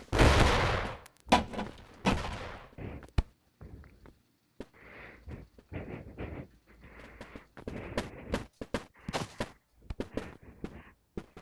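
Fireworks from a 3D printed grenade go off in a string of sharp cracks and pops, starting with a big burst, then irregular bangs of varying loudness crackling on for around ten seconds.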